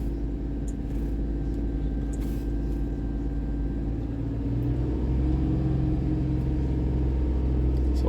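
A car engine with a dirty mass airflow sensor revs under throttle, a steady low rumble that swells and climbs in pitch toward the end, close and continuous with no talk.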